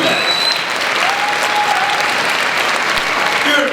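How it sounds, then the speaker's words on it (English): A Comic-Con panel audience for Game of Thrones claps loudly and continuously throughout, a dense wash of applause filling a large hall, with faint crowd murmur. "Give a round of applause to these guys."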